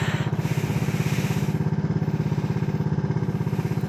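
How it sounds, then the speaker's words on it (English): A motorcycle engine running just after start-up, loud and close, with a steady fast thumping idle and a brief higher-pitched rev near the start. "Start this bike up."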